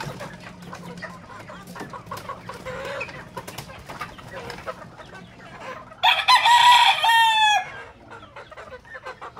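White Kelso gamefowl in a pen cluck softly in the background, then one crows loudly and close for about a second and a half, with a few other birds audible around it.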